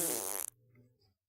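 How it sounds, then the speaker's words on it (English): A short, loud fart sound effect buzzes for about half a second and then cuts off sharply, leaving a faint low tail behind it. "The fart shit wasn't funny."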